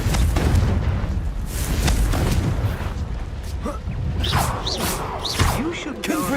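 A Confringo blasting curse goes off in a rumbling, sustained boom, followed by whistling, swooping tones.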